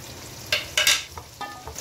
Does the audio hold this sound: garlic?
yes